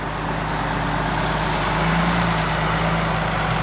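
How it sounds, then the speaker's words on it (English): A Massey Ferguson 6270 tractor ticks over at a steady idle while silage bales are wrapped, giving an even, close engine drone with a faint rise in hum partway through. "You only have the engine on tick over on this job."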